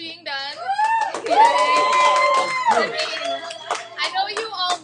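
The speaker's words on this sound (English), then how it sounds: "Let's have a round of applause for almost being done." Students in an Algebra 2 class give a round of applause, clapping close by while several voices whoop and cheer loudly in drawn-out tones over it.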